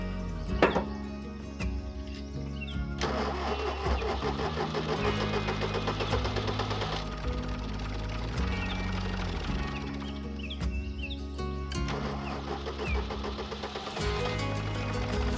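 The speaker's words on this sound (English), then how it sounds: "Finally, the air is out of the system and the tractor is running again." A tractor diesel engine, newly fitted with a diesel pump after air was bled from the fuel system, idles steadily with a knocking, throbbing rumble and some rattling, loud and close, running on its own without speech.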